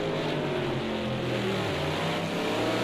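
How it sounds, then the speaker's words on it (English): A Bentley V12 GT3 car at full throttle in a racing game, a steady loud engine drone with rising and shifting harmonic tones, continuous and close throughout, with no voices heard. "this is now where Jacques is able to open the full V12 of this Bentley"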